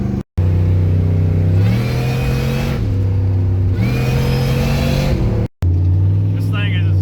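Chevrolet 5.3 truck engine with an Eaton M122 supercharger, loud and close, revving repeatedly in rising and falling surges with a whirring supercharger whine, briefly cutting out twice, while someone talks over it.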